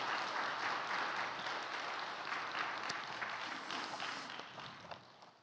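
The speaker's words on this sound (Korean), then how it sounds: "우리 인사하실 때 박수로 환영해 주시기 바랍니다" A church congregation at a Christmas Day worship service claps in welcome, a dense, steady wash of applause that fills the room and slowly thins toward the end, with no voices over it.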